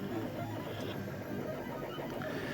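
A 3D printer printing a hollow Nefertiti bust, its steady mechanical whirr and stepper-motor hum running continuously at moderate level, with no one speaking.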